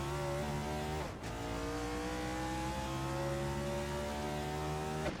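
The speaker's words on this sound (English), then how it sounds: "We are going green, racing for 20 laps here at the Dustbite Dream Race." Race cars in a video game launch at the green flag of a 20-lap Dustbite Dream Race. A loud, continuous engine drone holds with brief gear-change dips and rising revs.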